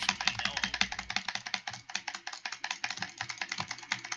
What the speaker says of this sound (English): That's a keyboard.